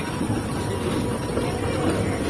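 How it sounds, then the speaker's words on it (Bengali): A small toy-like train passes by at a seaside spot, a steady rumbling rolling noise that stays fairly loud throughout the short stretch, with faint voices in the background. "দেবস্মিতা এই যে ট্রেন আসছে দেখতে পাচ্ছিস"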